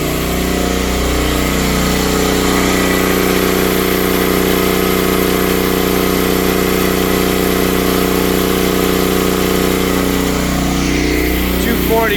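A Predator 13000 watt generator running under load and powering a house's lights and air conditioning, with a loud, steady engine drone throughout and no break.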